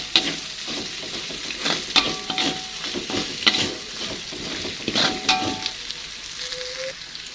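Seblak spice paste sautéing in a pan, a continuous close sizzle with repeated scraping strokes of a spatula stirring through it, no voices.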